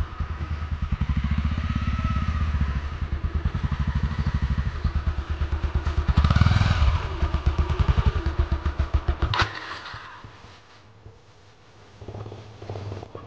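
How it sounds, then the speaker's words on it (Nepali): A motorcycle ridden on a Nepali road, its engine a steady close chugging drone that pulses and then drops away near the end before picking up again, with no talk. "बाइक चलाउन लागिरहेको छौँ"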